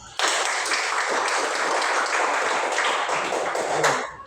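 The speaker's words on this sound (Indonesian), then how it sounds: "Kita berikan tepuk tangan untuk kita semua" A classroom group claps together at the end of a lesson, dense and steady for about four seconds before trailing off.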